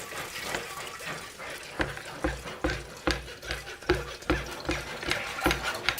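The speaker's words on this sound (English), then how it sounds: "So now we put all of the filtered wort into the carboy" Homebrewed beer wort is strained into a carboy, a close, uneven run of liquid splashing and gurgling with repeated sloshing bursts in an irregular rhythm, moderately loud with no talk.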